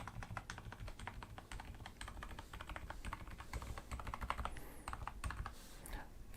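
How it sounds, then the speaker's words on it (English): Continuous rapid typing on the main keys of an MSI Strike 600 silent gaming keyboard, a dense run of soft, muted keystrokes at an even pace, heard up close and alone without talk. "So now we can take a listen to the keyboard itself, and you can hear or not hear how silent it actually is."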